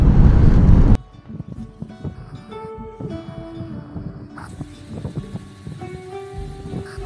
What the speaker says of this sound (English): Right after my microphone got destroyed by the wind